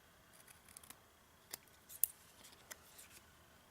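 Scissors trim the edges of a small paper artist trading card, giving a few faint, crisp snips spaced irregularly against a quiet room.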